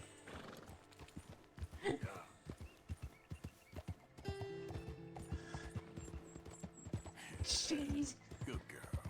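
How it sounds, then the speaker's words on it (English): A hot, steaming horse clip-clops in steady hoofbeats with occasional mechanical clicks, and a whinny near the end, heard at low level and unaccompanied by speech. "Guess my horse is really hot."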